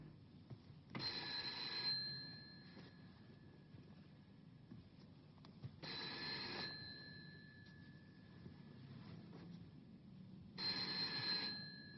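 A telephone bell rings in three separate bursts of about a second each, spaced by quiet pauses, clear and fairly close in an indoor scene from a 1982 French television series, with no one speaking.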